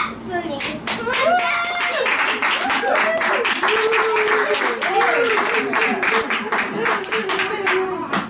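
Audience clapping at a school play of The Little Prince, a continuous patter of many hands under a voice speaking and gliding in tone throughout, fairly loud and close.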